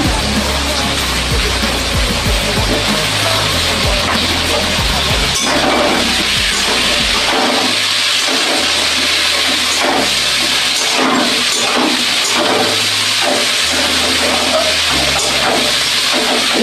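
Tomatoes fry in a pan with garlic and onion, a loud, steady close hiss of hot oil and steam with occasional low thumps from handling the pan.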